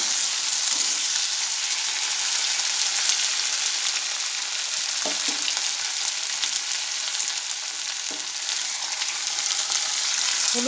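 Spice paste ground on a stone slab, with turmeric and salt added, fries in a pan with a steady, close hiss that runs without a break. A few soft knocks from stirring sound near the middle and end.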